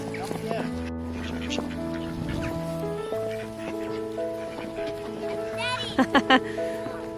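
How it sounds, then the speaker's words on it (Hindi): Ducks crowd out of a snowy park lake in Sweden to be fed biscuits, with quacking mixed into continuous talk from an adult and a child and a short burst of nearby calls near the end. "खाना देख के तो सारी डक्स बाहर आ जा रही हैं।"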